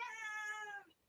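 A cat meows once in a single drawn-out, faint, nasal call that trails off, with no talk over it.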